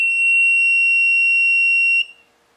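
A bug detector sweeping for hidden wireless transmitters gives a loud, steady, piercing single-pitch alarm tone when held right on top of the transmitter, sounding continuously for about two seconds before cutting off abruptly.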